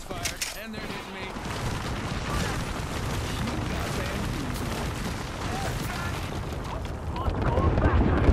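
Gunshots in the Apex Legends video game form a dense barrage of blasts and rumbling booms that swells near the end, with a player's voice heard over the fight.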